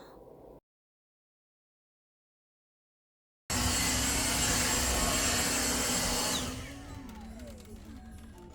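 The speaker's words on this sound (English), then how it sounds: "I'm pretty much done vacuuming" A household vacuum cleaner starts abruptly after a brief silence, runs loud and steady, then winds down to a lower hum as it slows.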